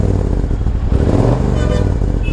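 A Royal Enfield Thunderbird motorcycle engine idling and revving up loudly close by to about 5500 RPM, a deep rumbling thrum that rises in pitch midway and then settles.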